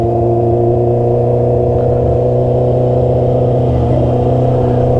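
A Honda CB650R motorcycle engine running at night, a loud steady droning hum that holds even throughout without distinct rev spikes.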